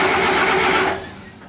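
An engine on an abandoned wash plant catches and runs loudly for about a second, then drops back to a steadier, quieter idle with a faint tonal hum.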